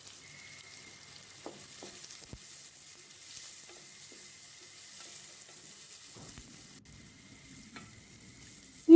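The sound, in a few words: onion and carrot frying in oil in a pan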